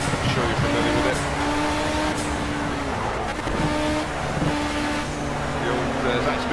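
Zakspeed Ford Capri race car engine in Project Cars at Donington, a steady loud drone with shifting harmonic tones as the engine revs and gears change, other cars close by, with someone talking over it.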